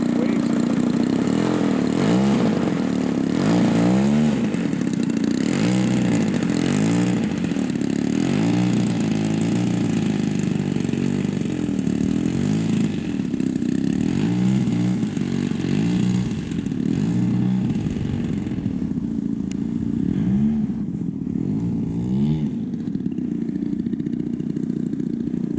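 A Robart P-47 RC model airplane engine running too lean, a steady, loud buzzing drone with periodic wavering in pitch throughout, heard up close and without pauses.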